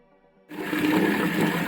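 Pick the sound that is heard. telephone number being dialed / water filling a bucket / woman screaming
water filling a bucket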